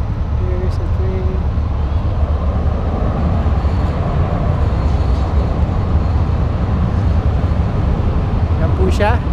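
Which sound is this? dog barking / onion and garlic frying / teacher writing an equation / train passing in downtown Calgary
train passing in downtown Calgary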